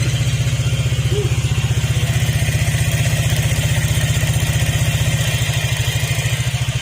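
A Honda Click 150 scooter engine runs close by, its loud, fast putter holding steady and even throughout.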